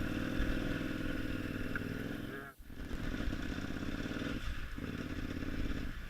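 A dirt bike ridden along a hilly trail, its engine droning steadily at close range with a brief dip partway through, joined by clattering and scraping from the terrain.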